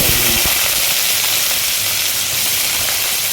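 Whole spices such as cardamom and black pepper crackling in hot oil in a pan for a Bengali chicken dish, a loud, steady sizzle with a few stirring knocks at the start.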